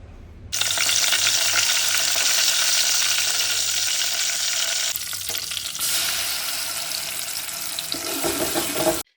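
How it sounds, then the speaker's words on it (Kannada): Green chili paste hits hot oil for tempering with a sudden loud, dense sizzle that stays strong and steady, dips briefly midway, then resumes before cutting off; no talk. "ಏನು ಈ ಗ್ರೀನ್ ಪೇಸ್ಟ್ ಮಾಡ್ಕೊಂಡಿರ್ತೀವಲ್ಲ, ಇದನ್ನ ಒಗ್ಗರಣೆ ಮಾಡಬೇಕು."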